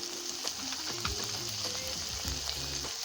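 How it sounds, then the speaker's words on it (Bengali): Fish with spice paste and chopped tomato frying in a pan: a soft continuous sizzle with light scraping of a spoon and a few faint clinks, close but quiet, with no voices. "এবার ভালো করে এটার সাথে ভেজে নেব।"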